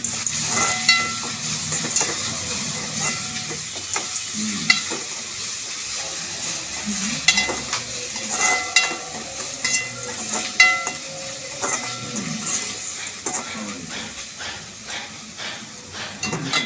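Ingredients sauté in a pan on a stovetop, a continuous bright sizzle with intermittent stirring scrapes and spatters, close and steady throughout.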